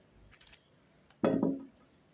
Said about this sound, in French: je vais découper le gombo